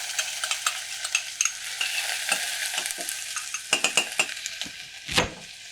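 Onion caramelizing in canola oil in a hot pan gives a steady, close sizzle, broken by scraping stirs and a few clinks of a utensil against the pan, with no one talking.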